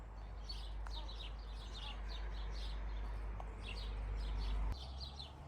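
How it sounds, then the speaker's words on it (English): Small birds twitter and chirp continuously in short, repeated bursts, moderately distant, over a steady low background rumble. "I don't know if you can hear the birds. It's a crescendo of tweeting at the moment."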